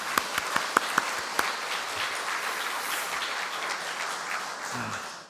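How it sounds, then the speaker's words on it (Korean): A church congregation at a Sunday afternoon service breaks into applause, a few sharp separate claps at first, then a full even wash of clapping that holds steady before trailing off at the end. "예, 박수 한번 쳐야죠."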